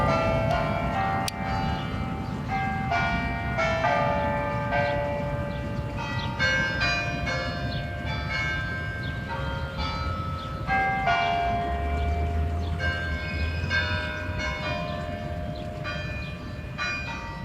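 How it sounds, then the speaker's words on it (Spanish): Several large bells of La Plata Cathedral peal continuously and loudly, overlapping tones ringing out in an irregular rhythm over a low rumbling background. "Mientras las campanas sonaban"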